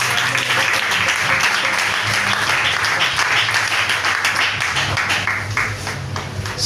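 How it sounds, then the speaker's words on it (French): A church congregation breaks into loud, dense applause that fills the whole stretch with sustained rapid clapping, close and continuous, with no pause. "Acclamez le Seigneur."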